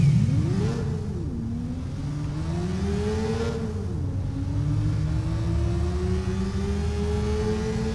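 A motorcycle engine in the video game Watch Dogs, revving up and down in a couple of swells before settling into a steady, loud, close drone with no speech.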